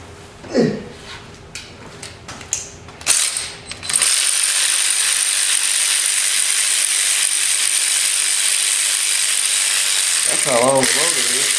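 Rapid ratcheting clicks from a wrench freeing bolts on a cheap Suzuki LTZ250 quad, several short bursts early on, then a steady loud hiss takes over for the rest, with brief voice sounds near the end.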